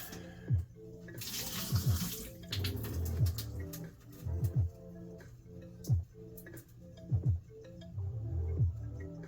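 Water from Nissin instant noodles being drained into a sink, close by and trickling and splashing, with repeated brief knocks and ticks from handling the container.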